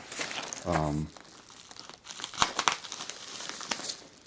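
Plastic wrapping around a bundle of items crinkles and crunches as it is opened, with a short voiced sound early and then a scatter of sharp crackling bursts close by.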